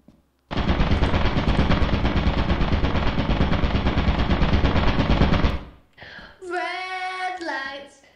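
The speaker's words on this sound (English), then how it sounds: "there's a turret in there" An automated turret in the co-op horror game Lethal Company opens fire in one loud continuous burst of rapid shots lasting about five seconds, then cuts off and a strained voice cries out afterward.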